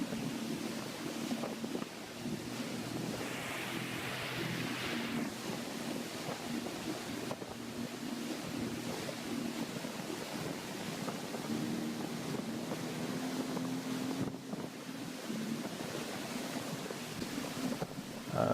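A Sea-Doo personal watercraft used for towing runs on open water, a steady engine drone blended with rushing spray and heavy wind buffeting across the microphone, continuous and loud without speech.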